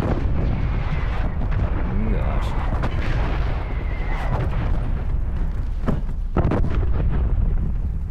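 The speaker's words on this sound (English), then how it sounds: "Artillery targeting detected. Net call. Incoming artillery." Incoming artillery strike in Call of Duty Cold War hardcore team deathmatch, a heavy continuous barrage of rumbling blasts and booms, loud and close, with voices over it.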